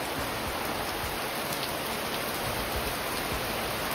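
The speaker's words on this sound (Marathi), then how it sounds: "आणि एवढा खतरनाक पाऊस आला ना, आणि आता आम्ही अडकलो आहे" Heavy rain pours down on a trip near Shiroda beach, a dense, loud, continuous hiss of rain hitting surfaces with no talk.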